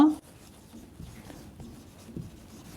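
Pen scratching on paper while working out a math solution, soft irregular strokes and taps at close range after a brief opening voice fragment.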